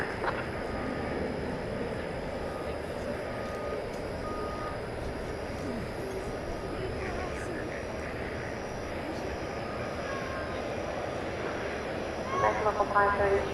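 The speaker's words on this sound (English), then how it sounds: "It's an Airbus A321neo going to Los Angeles," An Airbus A321neo jet rumbles at Dallas Fort Worth airport at night, a steady broadband roar from some distance. Faint beeps and a voice come in near the end.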